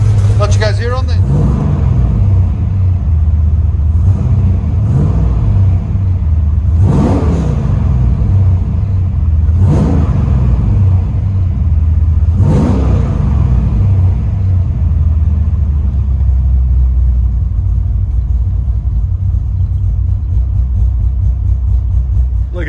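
A 1995 Nissan 240sx with a swapped, cammed LS3 V8, long tube headers and Borla Pro XS exhaust idles loudly with a choppy rumble and is blipped in four sharp revs, with people talking nearby.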